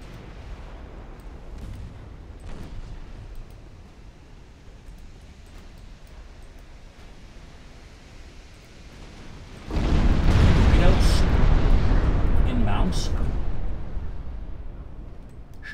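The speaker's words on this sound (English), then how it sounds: "Torpedo detonation." A torpedo detonates against a warship in the naval battle game Ultimate Admiral Dreadnoughts, giving a sudden deep roaring blast that swells loudly after a quieter rumbling stretch, then slowly fades.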